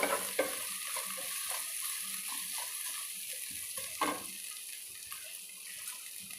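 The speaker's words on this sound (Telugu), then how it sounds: "ఇవన్నీ ఇట్లా వేగనిద్దామండి మంచిగా రొయ్యలు ఉల్లిపాయ అల్లమెల్లిపాయ పేస్ట్ ఇవన్నీ మంచిగా వేగినాయండి నూనెలో" Prawns, onion and ginger-garlic paste fry steadily in hot oil, a continuous close sizzle with occasional stirring scrapes and clinks, no voices.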